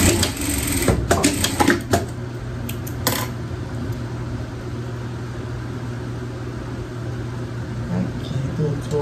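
A sewing machine stitches a seam on a pet dress with a steady, close motor whir that runs almost unbroken, while a few brief clicks and handling noises come through near the start.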